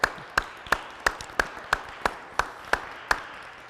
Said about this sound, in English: give Max a round of applause